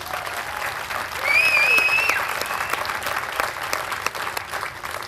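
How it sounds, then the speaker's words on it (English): A room full of people gives award winners at a chamber of commerce small business awards event a sustained round of applause, dense clapping steady throughout with a brief whistle-like tone near the start. "let's give them one more round of applause"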